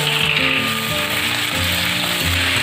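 Cauliflower stalks and leaves fry in a pan with a loud, steady sizzle close up, while a low tonal hum runs underneath throughout.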